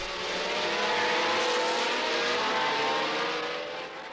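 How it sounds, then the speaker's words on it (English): 1977 Formula 1 race cars at the Jarama circuit in Spain, engines screaming loudly and continuously for a few seconds as they accelerate into the infield section behind the pits, steady and near with a slight fade at the end. "As the car set off into the infield section behind the Jarama pits"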